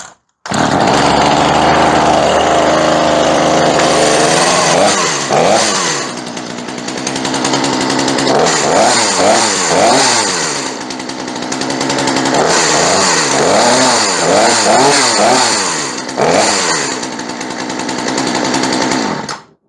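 A small two-stroke chainsaw, just fitted with new fuel lines and roughly tuned, runs loud and close at high idle, with several bursts of rising and falling revs in the middle and later.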